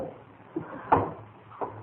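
A kitchen drawer opens and closes, giving soft wooden knocks and one sharper thump among a few light clunks, set against a quiet room.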